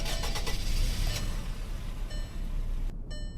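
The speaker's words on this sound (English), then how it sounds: "I'm gonna restart the car so you guys can hear it start up." A 2013 turbo Volkswagen Beetle in the Roblox game Greenville starts up, its engine cranking and catching into a steady low rumbling idle, close and loud, with a brief electronic chime near the end.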